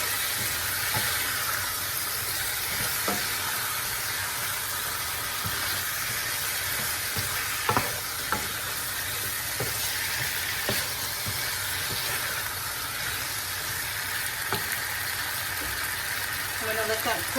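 Ginger and lemongrass fry in a hot pan on turned-up heat, a steady hiss and sizzle with a few faint clicks and taps, while a person talks over it.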